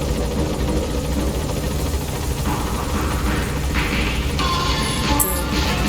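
Helicopter in the video game Metal Gear Solid V: The Phantom Pain, a steady low rotor drone and engine rumble filling the scene, with faint higher tones and clatter creeping in near the end.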